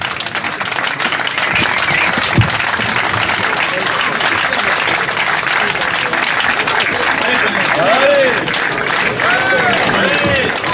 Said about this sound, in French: Donc continuez à applaudir